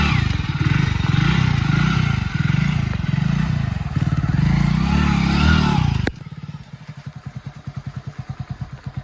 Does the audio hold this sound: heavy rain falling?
no